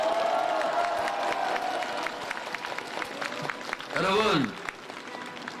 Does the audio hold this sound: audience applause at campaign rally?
yes